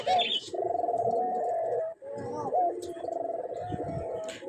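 A male dove in a cage with a newly paired mate coos close by in repeated soft, hollow phrases, pausing briefly midway before calling again.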